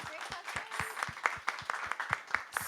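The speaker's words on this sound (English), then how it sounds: "All right, everyone, a round of applause, please." Audience applause at a book talk, fairly quiet and a little distant, with strong rhythmic individual claps standing out from the crowd and a few voices mixed in.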